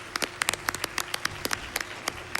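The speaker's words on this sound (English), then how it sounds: "Let's give a big round of applause for our current amazing runners" Light applause from a small audience at a speedrunning charity marathon event, scattered individual claps, fairly quiet and sparse rather than a dense ovation.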